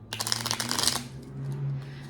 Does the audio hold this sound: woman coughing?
no